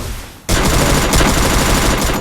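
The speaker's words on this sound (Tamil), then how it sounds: "லாங் ரேஞ்ச் கன் அடிங்க" Sustained automatic gunfire from a long-range gun in the Free Fire battle royale game, a loud dense burst of rapid shots that starts abruptly after a short lead-in and runs continuously to the end.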